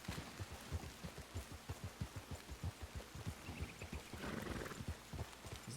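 Hooves of an Ardennes horse, a heavy French draft breed, clip-clop at a steady walking rhythm in a Red Dead Redemption game, with a softer patch of rain-like noise partway through.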